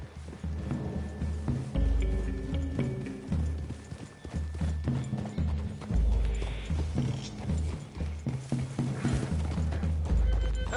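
Horse hooves clip-clopping in the video game Red Dead Redemption II, a steady rhythmic run of hoofbeats with a few snorts and whinnies, loud and close, with no speech over it.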